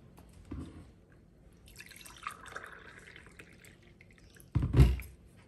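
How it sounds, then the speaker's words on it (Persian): Lukewarm water pours and drips into flour for chapati dough, a soft trickle and splash near the microphone followed by a louder, brief pour toward the end, with no talking. "سه گلاس آب اضافه کردم"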